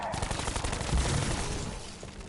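Shots fired at a burning pot down a corridor in Call of Duty Black Ops 4, a dense run of rapid gunfire with crackling impacts over steady game noise.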